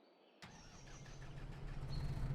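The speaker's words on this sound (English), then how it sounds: "Lovely tractor." A tractor engine in Farming Simulator 22 cranks and catches with a sudden start, then settles into a steady, rising idle, alone and close.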